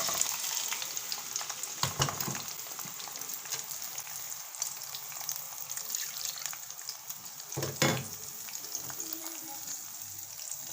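Masala spices sizzling in hot oil in a pan after frying fish for a fish gravy, a steady bright hiss throughout with a couple of brief clatters of a utensil.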